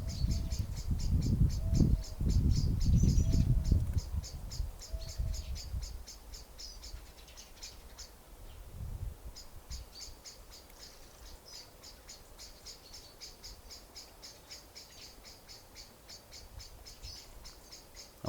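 Birds sing in a quiet natural setting with short, repeated high chirps in regular bursts. A soft, low rumble opens the recording and then fades.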